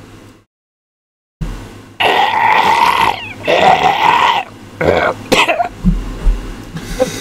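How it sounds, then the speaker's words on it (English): Coughing follows a brief silence, with rough, hacking bursts and a drawn-out strained throat sound, loud and close, breaking into several separate coughs. "Yes, the coughing was part of it too."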